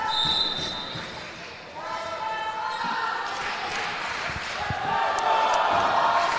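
A crowd at a high school wrestling match between Holy Cross and Brother Martin roars and cheers steadily, swelling louder toward the end, with occasional thuds from the mat and a commentator talking over it.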